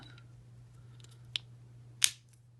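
A key cap snaps onto an Ultion WXM key, with a faint tick and then a single sharp click up close over a quiet low hum.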